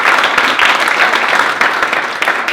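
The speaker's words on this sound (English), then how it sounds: "Let's give our guests a round of applause again," Audience applause for guests at the 2019 Eastern PSEA House of Delegates, a steady, dense wash of clapping filling the hall for the full stretch without pause.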